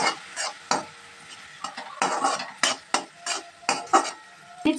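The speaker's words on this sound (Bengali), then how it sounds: "খুব ভালো করে আলু, পটল, চাল একসাথে মিশিয়ে নেব।" Potato, pointed gourd and Gobindobhog rice stirred together in a pan, a series of rhythmic scraping and clinking spoon strokes against the metal over a faint sizzle, close and alone without speech.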